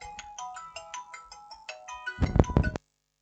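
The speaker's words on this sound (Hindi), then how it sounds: "यहाँ पर फ़ोन आया है किसी का" A phone ringtone plays a melodic electronic tune of rapid tones for about three seconds, swelling louder near the end before cutting off abruptly during a Hindi reasoning lesson on coding-decoding.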